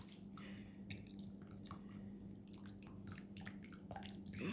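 Hot chicken broth for arroz con pollo streaming through a strainer into a bowl, a soft steady trickle with scattered drips over a low background hum, close and fairly quiet throughout.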